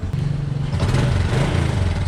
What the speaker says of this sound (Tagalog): testingin natin yung motor natin